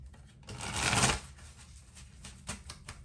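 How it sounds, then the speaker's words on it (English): A deck of tarot cards riffled in one loud, crisp burst, followed by a few softer taps and shuffles close by. "I'm going to go ahead and give the cards one final shuffle"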